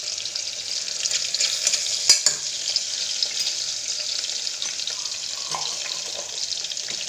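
Onion, green chilli and turmeric fry in a pan for vegetable biryani, giving a continuous bright sizzle with occasional stirring knocks and scrapes. The sound is moderately loud and there is no talking.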